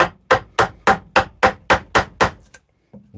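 A chisel is struck against willow wood while a large bowl is carved into the heartwood: nine sharp, evenly spaced knocks in quick rhythm, loud and close, then a pause and one fainter tap.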